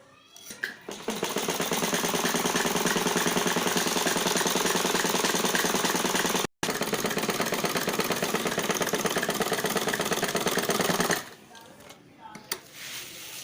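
A sewing machine stitches a salwar seam with a fast, even mechanical chatter. The run is continuous for about ten seconds with one brief stop midway, then goes quiet near the end.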